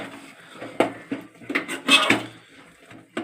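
A spoon stirs turmeric, chilli powder, masala and salt into a curry in a pot, producing irregular metallic clinks and scrapes against the pot, a few sharper knocks standing out over quiet moments.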